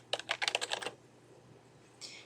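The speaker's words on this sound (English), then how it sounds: "so we just start typing" Quick burst of typing on a computer keyboard to enter text in a document shape: about a dozen rapid, close key clicks, then a quiet pause and one faint clack near the end, with no talk.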